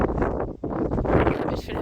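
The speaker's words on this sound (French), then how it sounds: "Oh le vent." Strong wind on a walk beside a road on Santorin buffets the microphone in loud, rough gusts. It roars continuously with a brief dip partway through.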